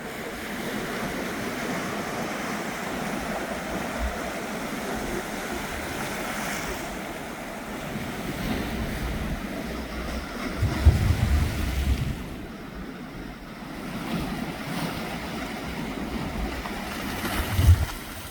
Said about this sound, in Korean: 방파제를 덮치는 파도 소리가 마치 음악 소리 같지 않나요?